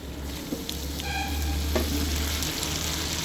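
Potato chunks sizzle steadily in a hot pan with chicken, a continuous close frying crackle with a few small stirring clicks.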